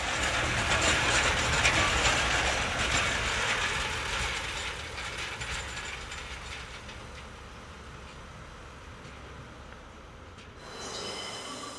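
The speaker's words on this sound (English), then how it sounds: "The flange squeal beckons the arrival of 142069, which is seen arriving empty from Canton Depot." Train wheels squeal against the rail flanges as a Class 142 diesel unit arrives empty from a depot, producing a sustained, ringing screech with ratcheting metallic clatter that fades gradually and then rises briefly at the end.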